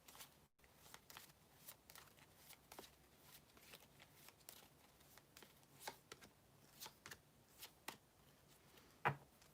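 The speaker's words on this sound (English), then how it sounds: "Let me shuffle just one more time" Tarot cards being shuffled by hand in a quiet room, a steady run of soft riffling and slapping bursts over about ten seconds, with one sharper snap near the end and no voice.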